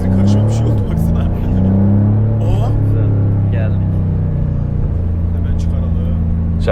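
An 800 hp G Power-tuned BMW M5 CS pulls hard on the autobahn, its deep engine drone and road rumble filling the cabin steadily and loudly, with a shift-like dip early on and people talking over it.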